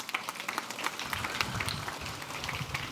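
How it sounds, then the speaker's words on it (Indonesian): Applause from an audience at a charity event and building inauguration in Tuban, Indonesia, starting after a brief quiet moment and continuing as steady, moderately faint clapping for the rest of the clip. "Mohon tepuk tangan dulu."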